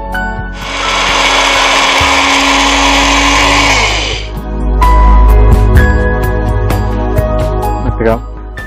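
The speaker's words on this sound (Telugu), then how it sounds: "ఇప్పుడు వీటన్నిటిని కలిపి మనం మిక్సీలో పొడి చేసుకుందాం." A kitchen mixer grinder pulverizes roasted spices into polihora powder, a loud steady whir lasting about four seconds before cutting out, followed by clattering handling sounds and a voice speaking.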